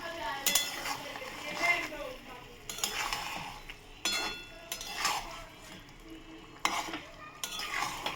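A spice mixture with salt and sugar is stirred in a pan over a raised gas flame, with a spoon scraping in several uneven bursts over a soft background sizzle.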